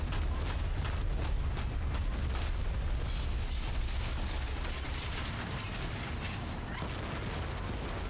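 Repeated grenade blasts in a PvP shooter game, a dense, continuous barrage of booms and bursts close at hand, filling the scene with heavy rumble.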